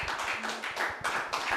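An audience at a year-end broadcast show claps in a brief, faint patter of applause, uneven hand claps repeating in quick bursts.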